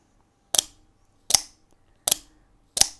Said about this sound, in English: It feels very solid when you're firing it.